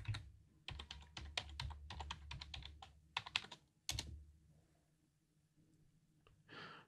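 Password typed on a computer keyboard, a close, quiet run of quick key clicks in bursts with short pauses, ending in a sharper keystroke and a soft rustle.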